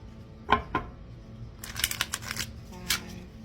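Tarot cards shuffled by hand during a reading, giving a sharp riffle burst, then a second, longer stretch of crisp papery flicks. A faint hum sits underneath and a soft voice murmurs at times.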